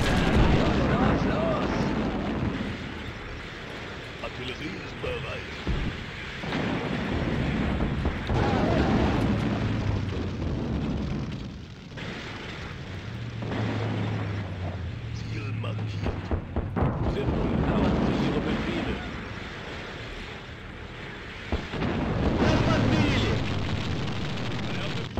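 Field gun artillery fire in the Sudden Strike war video game, a loud continuous barrage of booms and explosions rumbling throughout, with people talking excitedly over it.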